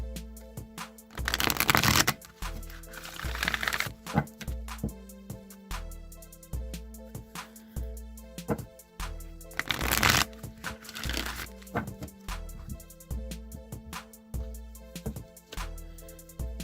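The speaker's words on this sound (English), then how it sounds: "I'm going to give this deck a few shuffles" A deck of oracle cards is shuffled by hand in repeated bursts of riffling and flicking, with soft papery slaps and a couple of louder flurries, close and quiet with no voices.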